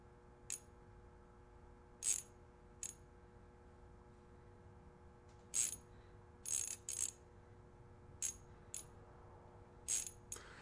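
Drag on a Magreel ice fishing reel zipping out in short, uneven bursts of sharp mechanical clicks, scattered across a quiet background, loud and close.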